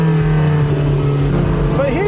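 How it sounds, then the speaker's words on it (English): A Porsche 918 hybrid supercar with a PDK gearbox accelerates hard, its engine note climbing in pitch toward the end, close and loud with a person talking over it. "I was so ready to be underwhelmed by the sound of this car"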